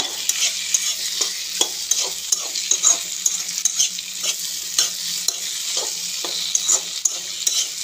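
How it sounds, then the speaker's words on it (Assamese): Meat frying with onions in a pan, a steady sizzle punctuated by regular scraping strokes of a spoon stirring, close up and with no talking. "এতিয়া কমেও 15 মিনিট 20 মিনিট মাংসখিনি ফ্ৰাই কৰিব লাগিব"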